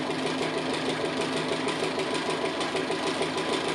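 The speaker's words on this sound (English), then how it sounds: "I'm going to come down and again go back on that same line of stitching" A sewing machine stitches an appliqué line on a quilted house block with a rapid, even, continuous mechanical whir and needle chatter close by, with no talking.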